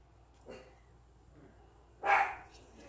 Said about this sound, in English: My dog's losing it.